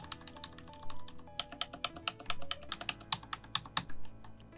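Computer keyboard keys are pressed for Premiere Pro editing shortcuts in a rapid run of close, crisp clicks and taps that quicken into a steady rhythm, with no talking.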